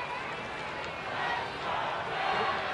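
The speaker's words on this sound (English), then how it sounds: "This is the Mariner fans in the building here." Seattle Mariners fans in a sellout crowd at Oracle Park during a baseball game against the Giants, a broad sustained roar that swells slightly in the second half, heard from a distance.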